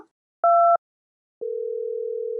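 A short electronic two-tone beep, then a long steady telephone ringing tone continuing alone in a quiet line.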